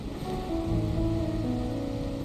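Steady rain falling in the Wuthering Waves video game, a constant soft wash heard alone beneath a low sustained musical tone.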